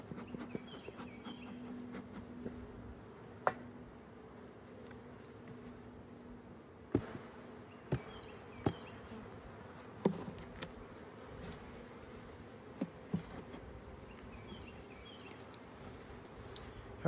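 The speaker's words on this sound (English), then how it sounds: "looks like it's pretty much full of bees" Bees buzzing around an open beehive during a Demaree split, a steady insect drone with scattered sharp knocks and handling clicks of hive equipment, and no talk.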